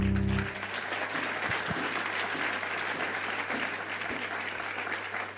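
Steady, dense applause from a church congregation after a closing prayer, sustained and evenly loud for several seconds with no voices standing out.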